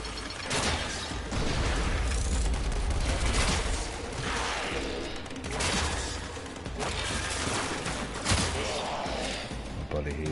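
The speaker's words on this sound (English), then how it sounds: "Okay, stop shooting me, please." Dense, continuous gunfire in the video game Warframe set on Mars, rapid bursts layered with mechanical clatter and thuds. Someone talks over the shooting.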